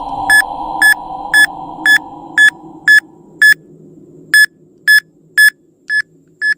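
An EMF meter app on a cellphone gives a loud, close run of about twelve sharp electronic beeps at a steady pace, with one short gap partway through. Faint room noise sits beneath and no one talks.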